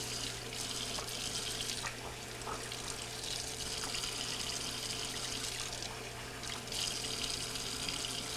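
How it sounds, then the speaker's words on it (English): Hot water running steadily through a refrigerator ice maker fill tube to melt out ice, a continuous close hiss of flowing water over a low constant hum, with no talking. "Easier way to do it is just to run some hot water through one end and get the ice melted out"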